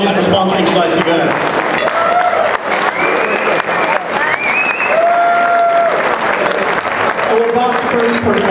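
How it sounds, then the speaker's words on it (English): Sustained audience applause at an evening awards event honouring a sponsor, steady and loud throughout with a voice speaking over the clapping. "I want to a big round of applause for Box Technologies for sponsoring tonight's event"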